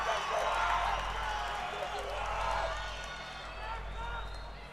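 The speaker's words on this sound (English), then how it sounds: "To hear the roar of the crowd as they announce Joshua van Dijk's name, it's absolutely amazing" Crowd at a Versus Fight Night MMA event roaring as fighter Joshua van Dijk's name is announced, a loud sustained wash of cheering and whooping that swells and ebbs across the arena.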